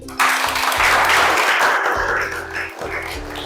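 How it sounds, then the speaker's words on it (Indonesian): A classroom group of trainee teachers bursts into applause after a group presentation, a dense, steady clatter of many hands that holds for about three seconds before thinning slightly. "yuk kita beli aplaus sekali lagi"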